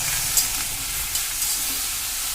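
Four green chillies frying in a pan for a mixed vegetable curry, a steady close sizzle and hiss with a few faint stirring scrapes, no voices.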